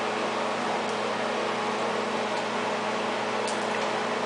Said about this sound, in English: as you're blending, put the olive oil into the blender